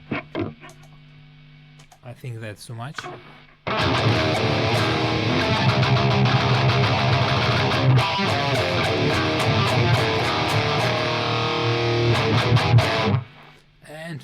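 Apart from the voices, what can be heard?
electric guitar through VHT Pittbull and ENGL Savage amps, no overdrive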